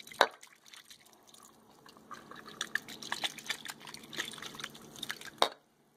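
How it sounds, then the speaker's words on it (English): Juice from a jar of sliced pepper rings is poured into a slow cooker, heard as quiet, uneven splashing and dripping with a couple of sharper clinks near the start and end. "So I'm going to throw the juice in here plus about half this jar."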